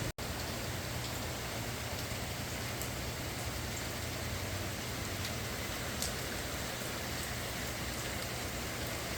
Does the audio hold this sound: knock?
no